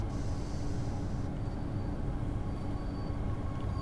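Talent 2 regional express train in Train Sim World 2, braking as it rolls into a station on the Cologne–Aachen line: a steady low rumble with a faint high brake whine, continuous and close, no talk.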